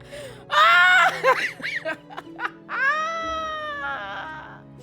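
A kitten gives loud, drawn-out, wavering meows close by, several cries in a row with short gaps and shifting pitch, under the faint hum of a room.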